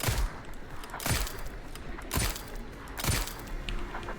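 Four evenly spaced weapon shots in the Sker Ritual video game, each a sharp booming report about a second apart over a steady background hum, with no talking.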